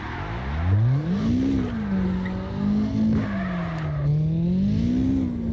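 Simulated car in CarX Drift Racing drifting under handbrake, the engine droning and rising and falling in pitch under a continuous tire squeal that wavers through the slide, loud and close.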